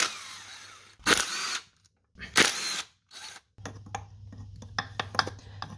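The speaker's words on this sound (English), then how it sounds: "Going to show you how to remove the slave cylinder here. It's real simple. There's 3 8-millimeter bolts." Power tool whirring in two short bursts to back out the 8 mm bolts of a clutch slave cylinder on a Ford Focus with SPI/CVH engine, followed by light metallic clicks and tool handling nearby.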